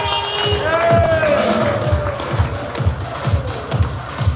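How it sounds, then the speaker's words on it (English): A party crowd at a token launch event in the Burj Khalifa, Dubai, cheers and whoops loudly over a pulsing low beat, with shouts rising and falling. "one more round of applause, everybody."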